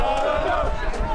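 Swedish race fans who traveled from Kumla cheer at the St. Petersburg Grand Prix street race in Florida, a short, loud burst of massed shouting and whooping from a happy crowd.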